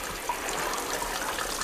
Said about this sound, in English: I think the water's starting to flow.